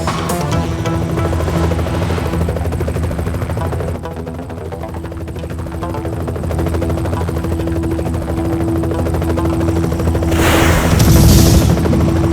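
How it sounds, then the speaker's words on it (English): Helicopter in the Knight Rider 2 video game, its rotor drone steady and loud throughout with a low chopping pulse, intensifying near the end amid bursts of game gunfire or explosions. "the helicopter will not be able to follow us into the tunnel"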